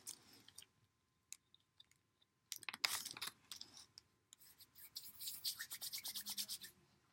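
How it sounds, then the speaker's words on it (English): Modelling clay being cut and scraped by hand, close and fairly quiet, with a few scattered scrapes at first, then denser rasping strokes and a run of rhythmic cuts near the end, with no talking. "I'm gonna cut some more clay off."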